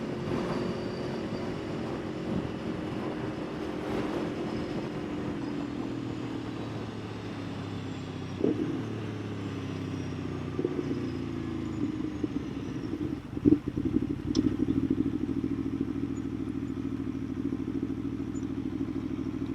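Engine drone of an Aprilia Tuono motorcycle ridden on sunny Southern California roads, a steady close-up hum with shifting pitch, wind noise and a few clattering bumps partway through.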